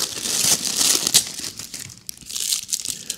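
Baking paper crinkling as cleaning clay is wrapped in it, heard as close, loud, continuous rustling and crackling with brief pauses and a sharp crunch, with no talk.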